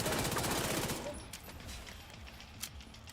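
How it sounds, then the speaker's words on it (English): Automatic SMG fire in a shooter video game, a dense close burst in the first second that drops into scattered quieter shots and rattle, with faint background talk. "now I just need to take him on with the SMG"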